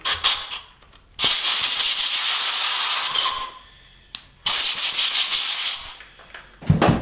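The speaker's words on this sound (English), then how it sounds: "And we're gonna blow the hole out." Compressed air hisses in loud bursts, blowing debris out of a bolt hole in an aluminum LS V8 engine block; two long blasts with a pause between and brief shorter puffs at the start and end.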